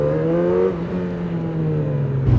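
A motorcycle engine drones steadily while riding through city traffic in Lille, its pitch dipping as the throttle eases and rising again near the end, close and loud with no talk over it.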